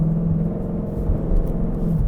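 A 2022 Ford Mustang GT in track mode gives off a steady, low engine rumble heard from inside the car, droning and even throughout with no talking.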